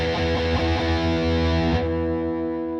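Distorted electric guitar power chord ringing with undamped open strings, a loud sustained buzzing chord struck a few times then left to decay and ring on its own.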